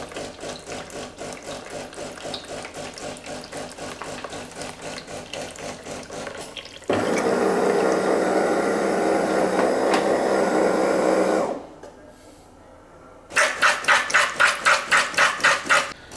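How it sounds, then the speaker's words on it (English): A DeLonghi Autentica coffee machine works through its descaling cycle: a rhythmic pumping buzz, then a sustained hiss of water flowing, a short near-silent pause, and pulsing pump bursts starting again. "Descaling is started."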